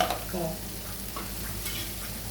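Ginger paste fries with onions in a pan, giving a soft, steady sizzle broken by a few scraping stirs from a spoon at close range.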